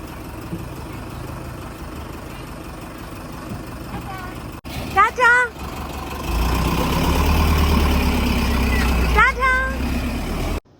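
A school bus pulls up and sits idling, its low engine rumble swelling and then holding steady nearby, with people talking over it.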